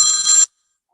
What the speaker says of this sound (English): Like I'm getting a phone call.